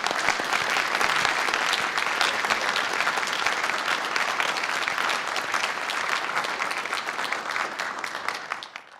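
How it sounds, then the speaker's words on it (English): A room audience at APL applauds during a New Horizons press briefing, with dense, sustained clapping that holds steady for several seconds before tapering off at the end. "I would appreciate if the audience here in the room at APL would give them a round of applause."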